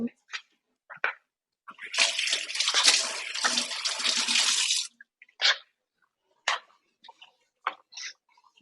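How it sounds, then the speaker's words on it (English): Hands are rinsed under a running kitchen tap while mushroom crab cakes are being made, giving a steady rush of water for about three seconds, with brief sounds before and after. "I'm going to rinse my hands"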